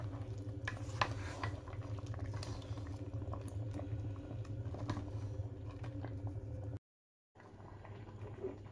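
A pot of okra sauce with spinach leaves simmers, bubbling and popping in a soft, continuous patter, quiet and close, with a faint clink near the start and a brief dropout near the end.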